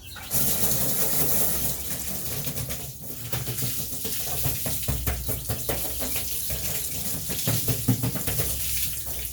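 Water rinses off a ceramic-coated surface in a steady, loud rushing spray that runs continuously with slight fluctuations and no talk.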